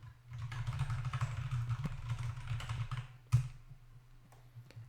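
Someone types a short message on an ErgoDox EZ or Planck EZ mechanical keyboard, the steady patter of keystrokes running continuously up close, with one louder clack near the end. Nobody talks.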